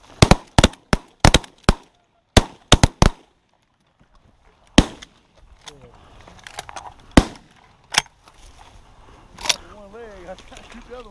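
While hunting a flock of birds, shotguns fire a rapid volley of loud, sharp blasts in quick clusters, then a few scattered single shots follow, with voices talking in the field between them.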